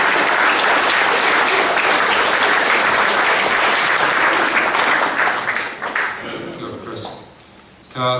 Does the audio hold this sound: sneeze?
no